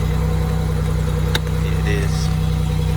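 A Ford Mustang 5.0 running rough at a dealer auction, a steady loud idle with a pulsing low throb and a faint tick, while people talk nearby.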